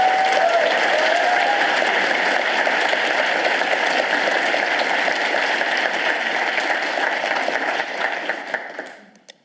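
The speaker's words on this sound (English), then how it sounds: "Can we have a round of applause for all of our contestants?" An audience at a university three-minute thesis competition gives the contestants a round of applause: a loud, dense, continuous crowd clapping sustained for several seconds before fading out at the end.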